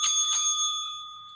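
A single bright bell rings twice in quick succession, then its metallic tone slowly decays into silence.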